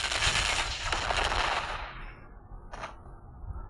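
Genos's machine-gun skill fires in a video game, a loud dense burst of rapid gunfire for nearly two seconds that cuts off, followed by a short sharp blast and quieter game noise.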